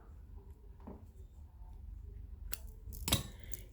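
Scissors snip crochet yarn on a pink hippopotamus project, giving a couple of quick, sharp cuts near the end over a quiet room hum.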